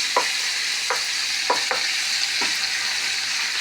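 Garlic cloves frying in a pan for a curry, giving a steady, close sizzle with several brief stirring scrapes that stand out along the way; no voices.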